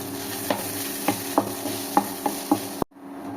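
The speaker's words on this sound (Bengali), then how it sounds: "এবার সব কিছু ভালো করে মিশিয়ে নেব।" Samosa filling of fried spices and broken nuts stirred in a pan, a spoon scraping in roughly six evenly spaced strokes over a low sizzle before the sound cuts off abruptly.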